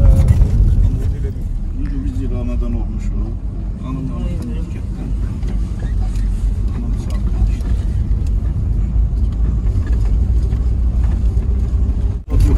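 An off-road vehicle's engine labours loudly and steadily while climbing a steep unpaved slope near the Gobustan mud volcanoes in Azerbaijan. People talk over it the whole time.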